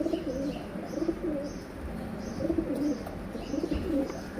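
Pet pigeons or doves in a breeding loft coo in soft, repeated low phrases, close and fairly quiet, with a few faint chirps mixed in.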